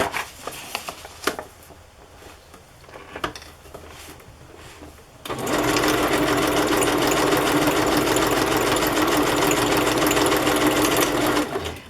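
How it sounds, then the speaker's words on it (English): After a few faint clicks and handling noises, a sewing machine starts up and runs loud and steady with a fast mechanical whir as it stitches a flap on a handmade journal. "Now I'm gonna sew something on this flap just for fun."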